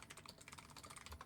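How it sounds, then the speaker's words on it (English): Fast, steady typing on a computer keyboard, a dense run of light key clicks at close range and low volume, with no talking. "just while Enbright's typing,"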